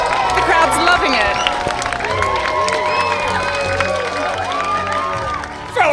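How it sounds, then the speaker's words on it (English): Crowd of young people at an outdoor council gathering cheers and shouts continuously while a costumed pudding character appears, with children's voices and scattered claps throughout at steady loudness. "The crowd's loving it."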